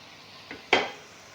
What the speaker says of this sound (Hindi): और इसे मैं 3 से 4 मिनट ऐसे इसकी भुनाई करूँगा दाल की